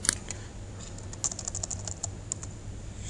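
Someone types on a computer keyboard, producing a quick run of close, crisp key clicks with uneven rhythm over faint background hum.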